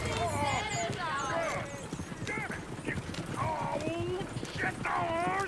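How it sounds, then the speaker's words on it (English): Horses gallop and clip-clop in Red Dead Redemption 2, steady close hoofbeats with occasional neighs running under excited shouting voices throughout. "Get the horses! Damn horses!"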